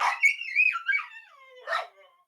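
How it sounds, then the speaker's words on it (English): Dogs whimpering and yelping, a long wavering whine sliding downward followed by a short sharp bark, close and fairly loud with no talking. "Aurora's dogs are not happy."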